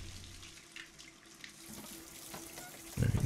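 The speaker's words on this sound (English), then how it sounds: "Now turn off the fucking water" A running water tap in the video game Hitman 2, a steady faucet flow with a stronger gush near the end, moderately loud with no talking.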